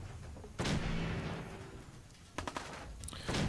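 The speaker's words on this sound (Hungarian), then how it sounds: "Törzsre lövünk." Gunshots in Fallout 4, a heavy blast followed by a sustained rumbling tail, then a few quick cracking shots and another loud report near the end, close and punchy.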